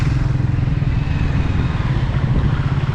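A Triumph Speed T4 400cc motorcycle is ridden on the road. Its engine gives a steady, loud, continuous rumble with a pulsing low throb and faint road and wind noise, with no voices.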